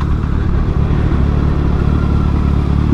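A 2019 Kawasaki ZX6R sport motorcycle cruises along a country road, its engine droning steadily under heavy wind rush, loud and close from the rider's position, with no speech.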